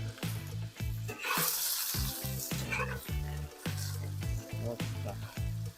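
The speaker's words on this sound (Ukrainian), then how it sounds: "наша картопелька смажиться і додаємо луку до неї" Oily sizzling and crackling of young potatoes frying in a pan with onion added, steady throughout with intermittent clinks and scrapes of stirring close by.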